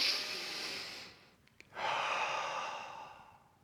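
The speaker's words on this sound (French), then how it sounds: "prenez une respiration avec moi" A person takes a slow, deep breath during a calming relaxation exercise: a long airy inhale, a brief pause, then a long breathy exhale, close and alone with no talk.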